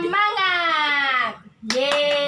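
A primary school class does the tepuk semangat routine, chanting together in a loud children's chorus, with a brief pause before a burst of sharp rhythmic clapping near the end.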